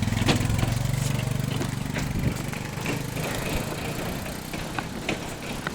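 Motorbike engine idling close by on a mountain road near Sa Pa, Vietnam, with a low, steady rumble that is loud at first and then drops away, leaving faint outdoor background.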